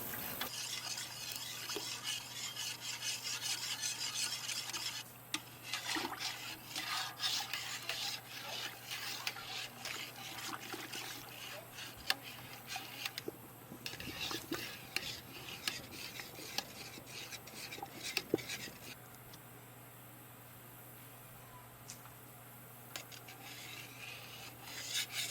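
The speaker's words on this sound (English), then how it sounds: "we're just going to keep stirring this pretty consistently so that it doesn't clump or stick to the bottom" A custard mixture for fresh-milled Boston cream donuts is stirred steadily in a pot, giving a continuous scraping, rubbing rasp of a utensil against the pan bottom, close up over a low hum.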